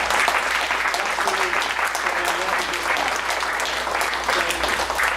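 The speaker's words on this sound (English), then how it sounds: "How about a nice round of applause for Mark Noah?" A labor festival audience in Cleveland applauding, thick continuous clapping from many people at a steady, full level with faint voices mixed in.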